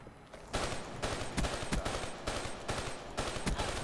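Rapid automatic gunfire in Black Ops 3, loud and close, sustained bursts of rattling shots with brief gaps between volleys, no talking.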